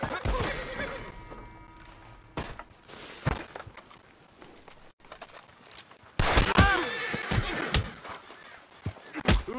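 Horse in the video game Red Dead Redemption 2 whinnying with hoof clip-clop and scattered thuds, including a louder burst near the end, mixed with game sounds and talk.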